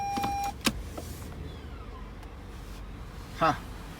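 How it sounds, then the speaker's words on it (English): Electronic parking brake releasing in a 2020 Toyota RAV4 Limited, a short whirring motor buzz near the end after an earlier chime and click, heard close inside the quiet cabin. "this is the electronic parking brake. Every time you put it into park, it's going to come on. Every time you put it into, I'll show you, put it into drive, it goes off."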